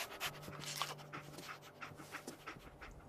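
Dogmeat, the German shepherd companion in Fallout 4, pants in quick quiet huffs, close but faint, over low ambient game hum with no speech.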